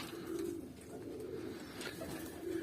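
Pigeons cooing in a coop with a young bird present, soft low repeated coos near the start and end over faint rustling background, no talk.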